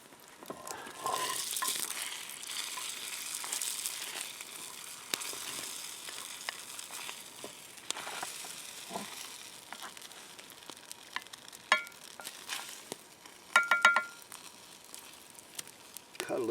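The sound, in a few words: bacon frying and sizzling in a pan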